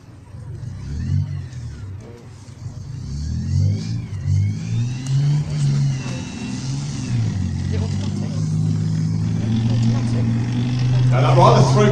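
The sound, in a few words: tank engine roaring, engine from an E-Type Jaguar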